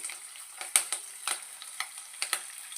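Curry leaves and green chili pieces frying in hot oil with cashew pieces, a fine crackling sizzle close by punctuated by several sharp pops and spatters at irregular intervals, with no speech.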